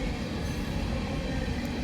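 Loaded CSX coal cars rolling past on the tracks, a close, steady rumble of wheels and rail noise without pause.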